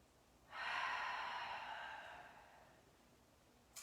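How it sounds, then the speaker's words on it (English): A single deep breath drawn in and slowly let out during a yoga flow, close and clear, the airy rush swelling quickly then fading over a couple of seconds with no talk. "Another deep breath."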